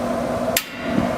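The built-in igniter on a Camp Chef propane sear box fires once: a single sharp click rises briefly over a low, steady hum.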